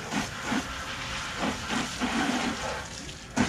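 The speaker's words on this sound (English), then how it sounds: "Rinse the bucket off." Water rushes and hisses steadily into a bucket being rinsed out after a car wash, a broad splashing wash with slight surges, close and fairly loud, no talking.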